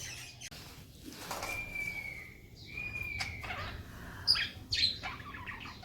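Pet parrots call indoors with a few quiet, scattered squawks and one sharp, thin whistle, and a couple of louder chirps come near the end over a low household background.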